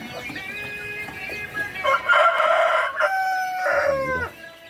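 Roosters crow nearby in a farmyard, several long overlapping calls one after another, loud and clear with no talking.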